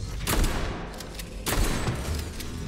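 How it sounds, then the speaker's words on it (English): Two heavy gunshots from a video game, each a loud broadband blast with a short decaying tail, spaced about a second apart against a steady background. "Oh, that was two shots."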